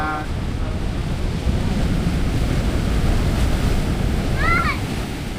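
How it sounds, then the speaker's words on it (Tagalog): Strong ocean surf at Baler rolling and breaking on the shore, a loud continuous roar with wind buffeting the microphone throughout and a faint high call near the end. "Ang lalaki ng alon, no?"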